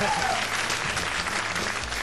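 Dense studio audience applause on a comedy television show, loud and continuous throughout, with faint voices mixed in.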